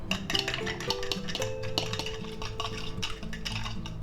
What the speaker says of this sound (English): And we'll beat that up.